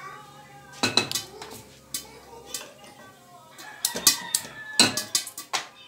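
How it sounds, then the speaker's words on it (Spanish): A metal cooking pot (cazuela) clanks onto a stovetop while caramel-sugar popcorn is being made, with a series of sharp, close knocks and scrapes over a quiet kitchen background. "Y ahorita vamos a poner una cazuela."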